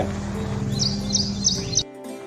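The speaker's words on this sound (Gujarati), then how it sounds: "ટેલર બર્ડ એટલે દરજીડો" A tailorbird sings a quick series of four sharp, high chirps in a row over a low background hum, close and clear, and the sound cuts off abruptly afterward.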